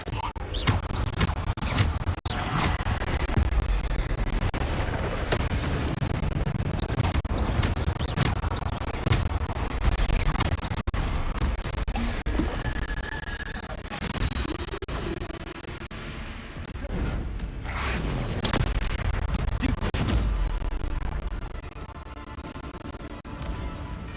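Hogwarts Legacy spell combat with Bombarda and Descendo casts, a dense run of impacts, blasts and crashes that continues for the whole stretch, with a voice speaking at times.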